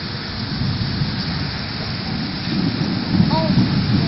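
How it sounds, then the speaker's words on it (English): A stormy spell in Qatar: continuous rain and wind roar with a low thunder-like rumble, holding steady and swelling slightly near the end. "Very stormy."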